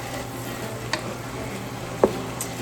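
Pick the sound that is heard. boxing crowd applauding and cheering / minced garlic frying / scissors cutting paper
minced garlic frying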